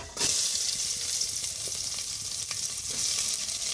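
Fenugreek seeds crackle and sizzle steadily in a little hot oil in a pan, close and continuous, with a few faint clicks.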